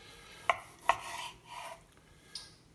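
A knife cuts thin slices from a wagyu London broil against the grain, with two sharp quiet knocks of the blade on the board followed by softer slicing strokes, close and isolated.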